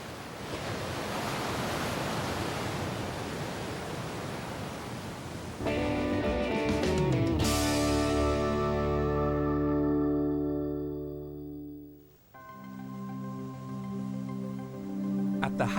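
Ocean waves crash and wash steadily along the Causeway coast of Northern Ireland, a loud, continuous surf roar with a music bed rising partway through.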